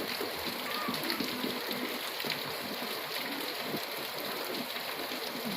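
Heavy rain pours down outdoors in a steady, dense hiss that stays constant throughout, with faint voices underneath.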